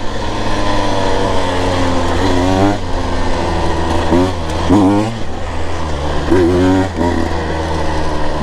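A Husqvarna TE 150 TBI dirt bike engine heard up close while riding, a loud steady two-stroke drone that pulls through rising and falling revs without downshifting, with wind rush throughout.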